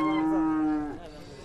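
A single drawn-out moo from cattle at the Sokuluk livestock market, loud and near, falling in pitch toward the end with faint crowd noise behind.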